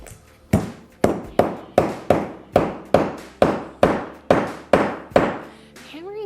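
A hammer sets metal rivets through leather bag straps, giving about a dozen sharp, ringing strikes at a steady, even pace, close up, with a brief voice at the very end.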